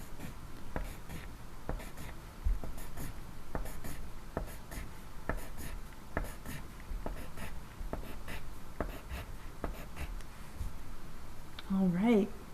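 Pencil drawing many hedgehog quills on paper, a steady run of quick scratchy strokes that continues alongside a voice speaking throughout, with a brief higher sung or spoken sound near the end.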